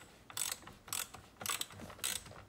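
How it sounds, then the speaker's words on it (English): A ratchet clicks in four quick bursts while tightening a screw on a carbon fiber digital steering wheel in a C8 Corvette, each burst a close, crisp run of pawl clicks. "So I'm going to go ahead and put it on my ratchet now."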